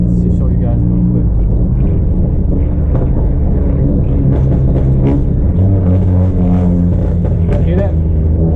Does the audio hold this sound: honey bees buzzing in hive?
no